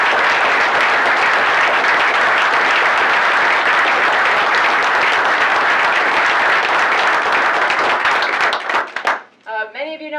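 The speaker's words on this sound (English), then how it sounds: "So I'd like to give a big round of applause to my family." Dense, sustained audience applause at a Navy swearing-in ceremony for the 33rd Chief of Naval Operations, loud and continuous for about nine seconds before breaking off into a voice speaking.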